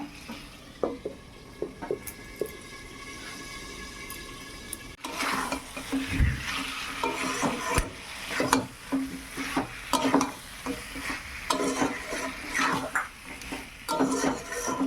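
Chicken with potato pieces is stirred in a frying pan, with soft sizzling under repeated scraping and clattering strokes of a utensil against the pan, growing busier and louder partway through, with no talking.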